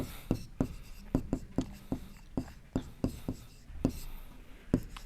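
Chalk or marker tapping and scratching on a board during a maths lesson on triangle congruence, a series of sharp, fairly quiet strokes in an uneven rhythm with a teacher speaking softly between them.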